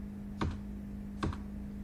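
A few keystrokes on a computer keyboard while entering a command in drafting software: two short, separate clicks about a second apart over a steady low electrical hum, with no voices.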